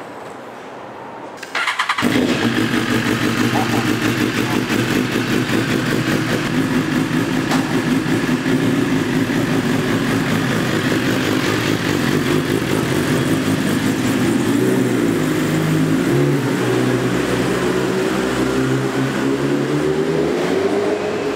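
After a short quiet moment, a motorcycle engine cranks and fires, then settles into a steady, loud idle close by, with small shifts in pitch later on.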